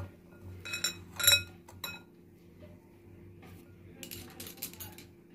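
Turmeric, chili powder and salt stirred together in a bowl for mutton fat pakoras: a few sharp spoon clinks and taps against the dish early on, then softer, scattered scraping and clicks.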